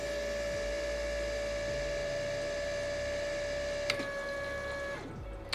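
Fuel injectors held fully open on a test bench for a rebuilt Audi quattro Group S RS001 fuel system give a steady, loud mechanical hum and whine that runs continuously, then cuts off near the end.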